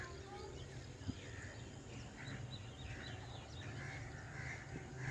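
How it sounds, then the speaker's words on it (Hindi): Ducks quack faintly and repeatedly at a distance beside a large farm pond. The calls sit under a steady outdoor hiss, with a soft voice nearby. "जैसा कि हमारा बतख आप लोग को दिख रहा होगा"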